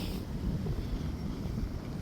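Wind blows at Klampenborg beach in Denmark as a steady, rough rumble with heavy low buffeting on the microphone. It stays constant and close throughout, with no voices.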